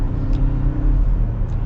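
A Ford Ranger Tremor pickup with the 2.3 EcoBoost engine accelerates at partial throttle in sport mode, giving a steady, close low engine rumble throughout.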